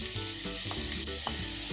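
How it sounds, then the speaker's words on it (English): Chopped onion hits a tablespoon of hot oil in a heated medium pan, crackling and sizzling loudly and continuously, with a few stirring scrapes and no talking. "Take 1 tablespoon oil and we will add all this onion"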